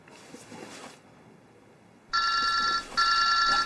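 A telephone rings in a two-burst pattern, loud and near, coming in after a stretch of faint room tone and ringing on its own with no talk over it.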